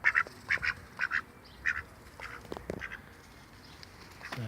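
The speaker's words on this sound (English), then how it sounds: "So now you've met the ducks" Several domestic pet ducks give short, bright quacks in quick clusters near an enclosure with a pond, loud and close early on, then trailing off into softer, scattered calls.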